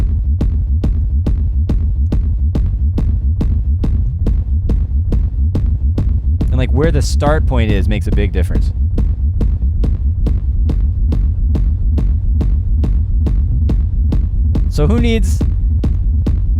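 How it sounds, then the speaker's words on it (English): A synthesized rumble built from layered low-frequency sine waves, pulsing in a steady throbbing rhythm that runs loud and continuously throughout, with a voice talking briefly over it in two spots. "I'm making a rumble by just putting a bunch of low frequency sine waves together and playing with them."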